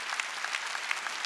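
A church congregation clapping during a Sunday worship service, steady rhythmic applause from a crowd heard at a distance, fairly faint.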